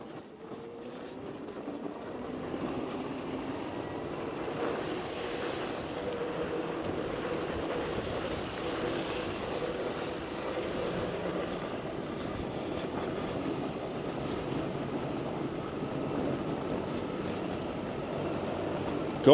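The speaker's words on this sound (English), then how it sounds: "I didn't realize we had such a wind." Strong wind roars steadily and close into the microphone while an eBike is ridden along a snowy seasonal road near a river, a continuous broadband rush lasting the whole stretch with no talk.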